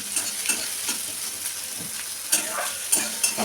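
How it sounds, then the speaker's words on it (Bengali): Dried chillies, garlic, onion and green chilli frying in mustard oil for a fish dish, a steady sizzle with a spatula scraping and stirring at intervals, a few sharper clinks near the end. "এগুলো হালকা ভেজে নেব"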